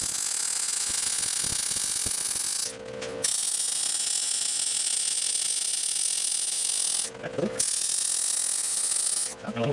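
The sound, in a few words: welding steel base of a vise stand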